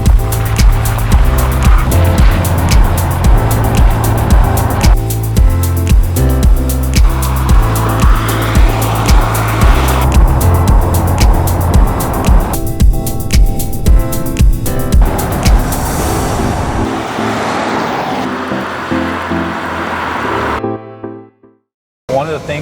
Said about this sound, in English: So let's go drive it and show you just how awesome this thing is.